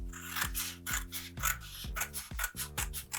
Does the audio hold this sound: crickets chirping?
no